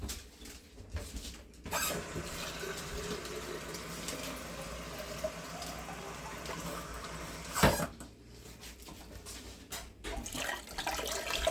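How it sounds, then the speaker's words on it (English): Hot tap water pours into six canning jars on a kitchen counter, a soft continuous splashing flow with small clinks and a brief louder knock near the end, heard close and quiet. "Pour in our hot water and get it all over the counter."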